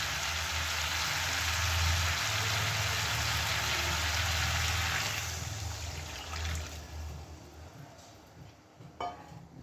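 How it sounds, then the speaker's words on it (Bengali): Water pours steadily into a pot of spiced shol fish curry with yam, a loud, continuous splashing rush that runs for about five seconds before thinning out into quieter trickles and small drips. "এবার আমি মাছ দিয়ে পরিমাণ মতো জল দিয়ে দেব"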